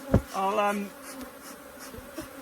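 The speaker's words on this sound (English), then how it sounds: "these bees are biting well" Honey bees buzz around a nuc colony, one close bee giving a loud, wavering drone that fades, with fainter buzzing continuing behind it.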